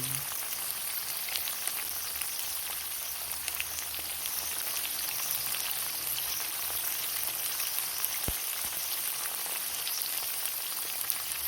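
Bean sprouts and tofu sautéing in oil once used to fry smoked fish, a steady soft sizzle throughout with one sharp clink partway through, no voices.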